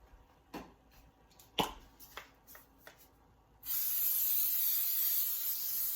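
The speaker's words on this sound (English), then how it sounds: "And I'm going to spray the pan." Several short ticks and taps, then cooking spray hisses onto a baking pan for shortbread cookies, continuing steadily to the end, close and fairly loud.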